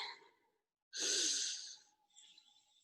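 A single deep, audible exhale during yogic cleansing breathwork, a close breathy whoosh lasting about a second, with softer breathing before and after.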